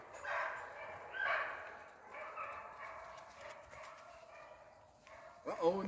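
Fox beagles baying on a hunt outdoors, faint and distant yelps and howls heard under someone talking nearby.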